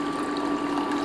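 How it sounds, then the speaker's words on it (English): About one cup of water poured into a pan to start a celery fat-burner drink: a steady, close, continuous splashing rush with no talk. "just 1 cup of water is enough."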